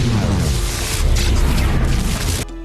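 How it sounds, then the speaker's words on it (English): A tower blowing up in a film scene: a loud, dense roar and rumble sustained for over two seconds, then cut off abruptly into a quieter tail. "When the tower detonates,"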